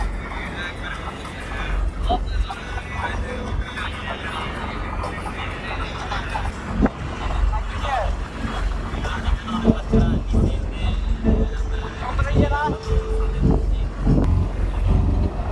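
River trawler ride near Ramgati, Bangladesh, with a steady low engine drone and wind buffeting the microphone throughout, plus a brief tonal hum midway and scattered background voices.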